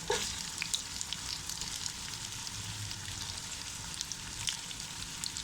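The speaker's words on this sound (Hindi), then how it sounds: "प्याज और चिकन एक साथ ही सोते करने हैं।" Onion and chicken sauté together in a pan for a restaurant-style chicken gravy, giving a constant close crackling sizzle with scattered small pops and an occasional stir, fairly quiet, and no talking.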